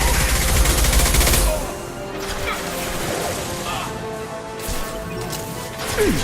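Gunfire and a heavy impact shot in the Mass Effect 2 video game, with a loud opening crash followed by scattered shots and impacts over a rumbling game soundscape, no talking.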